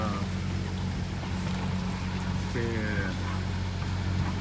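Sailing boat running under engine at about four knots on a calm sea with a long one-metre swell, a steady low motor drone with hull and water hiss, while someone talks over it.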